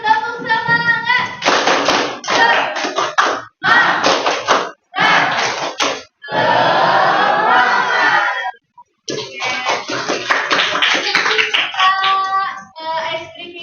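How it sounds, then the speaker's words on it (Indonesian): A high-school class claps a rhythmic tepuk semangat spirit chant in a classroom, loud bursts of patterned hand-clapping in quick groups separated by short pauses, with voices calling along and a brief silent gap near the end. "Kita tepuk semangat dulu yuk."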